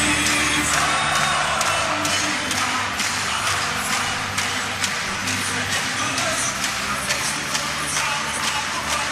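A crowd cheers at the women's points race final of the 2018 UCI Track Cycling World Championships, a loud, continuous roar of voices with claps and whoops filling the velodrome throughout.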